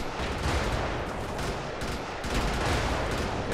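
Rapid bursts of gunfire from the mech combat video game Brigador, dense and continuous over a rumbling low end, with no voices over it.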